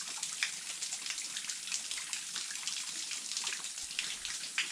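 Water flowing from natural springs in a forest, a steady close bubbling and trickling with small splashes throughout, no voices.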